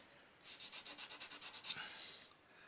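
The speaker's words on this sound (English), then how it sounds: "rub a bit of the white across the top of the wall there, and just give it a rub" A brush or finger rubs white paint across the top edge of a model wall in short, quiet, rhythmic back-and-forth strokes, close and faint, lasting under two seconds.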